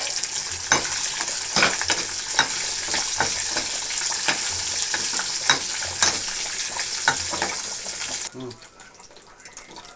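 Mustard seeds and cumin sizzling and crackling in hot tempering oil for mavadi kaya pappu, a steady loud fry with stirring strokes, then cutting off near the end.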